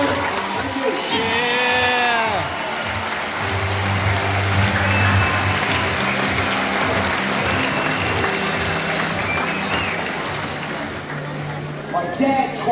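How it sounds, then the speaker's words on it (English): Audience applause and cheering fill the Crocoseum arena at Australia Zoo, a sustained wash of clapping with whoops and crowd voices for about twelve seconds, with a voice briefly heard near the start and again at the end. "Please join me in a big round of applause for Scrap."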